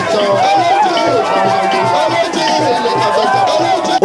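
A dense crowd pressed around a politician arriving at a public gathering gives off a steady loud hubbub of overlapping voices and movement, close and continuous throughout.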